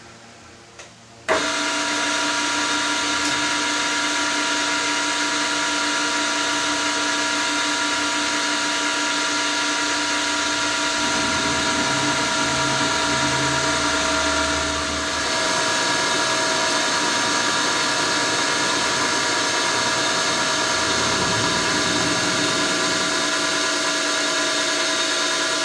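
Metal machining with a Tripan 111 toolholder at 580 RPM and a slow feed gives a loud, steady mechanical whine with a constant tonal hum that starts abruptly after a second and runs on continuously, with a slight rougher patch midway.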